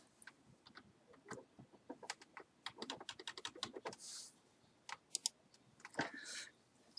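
Quiet close clicking of computer keyboard keys, mostly Shift and arrow keys tapped in irregular quick runs and single presses, with brief pauses between bursts.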